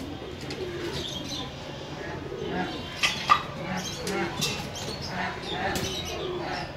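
Soft pigeon coos rise and fall against a busy background with some voices, the calls moderately close but partly buried.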